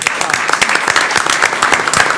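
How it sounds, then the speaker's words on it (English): A board of trustees meeting audience claps for donors Gina and Michael Way, a loud burst of many hands clapping close by, brisk and continuous. "give them a round of"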